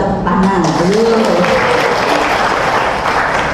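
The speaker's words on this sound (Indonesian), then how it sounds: "Oke, yuk kita tepuk tangan." Steady applause from a gathered crowd of volunteers at a training session, loud and continuous throughout, with a voice speaking over the clapping.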